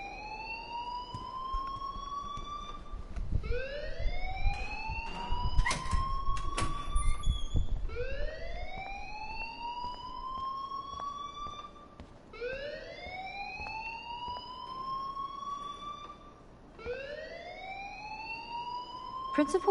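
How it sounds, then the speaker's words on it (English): A school alarm rings in Life is Strange: a loud electronic whoop that sweeps upward and repeats about every four seconds, with a brief burst of clatter and voices partway through. "please turn off that alarm since that's your job"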